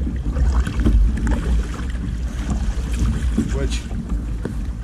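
A kayak glides at cruising speed with steady water wash and wind buffeting the microphone, the paddling rhythm buried in the rushing noise while someone talks briefly.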